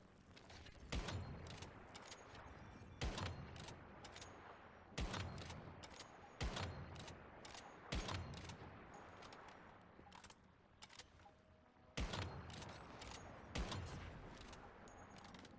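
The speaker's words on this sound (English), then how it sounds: "We are just putting out the bullets right now." Gunfire in the survival shooter Once Human, heard as sharp, loud bursts of shots in irregular clusters roughly every one to two seconds, with mechanical clicks and clatter between volleys.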